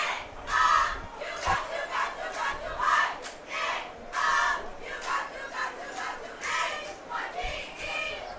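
Home crowd at a high school football game between Seminole and Heritage Panthers shouting in repeated loud surging bursts, each swell rising and falling about every second or so.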